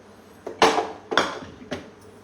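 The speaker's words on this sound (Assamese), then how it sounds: "কেৰাহীটো মই গৰম হবৰ কাৰণে ৰাখিছো" A metal kadai is set down on a lit gas stove, making three sharp metallic clanks spaced about half a second apart, each ringing briefly before fading into quiet.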